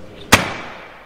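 A hammer strikes a coin token at the Madrid money museum mint, a single sharp metallic strike ringing out close by, followed by a short ringing decay.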